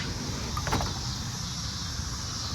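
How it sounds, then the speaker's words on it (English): The pneumatic door of a Prevost H3-41 tour bus with a Detroit Series 60 engine opens at the push of a button, giving a steady mechanical whir and hiss with a brief clunk partway through and no talking. "You just push the button, opens up the door."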